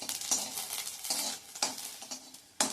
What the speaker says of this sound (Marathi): मिरची सुद्धा छान खरपूस होईपर्यंत अशी भाजून घ्यायची.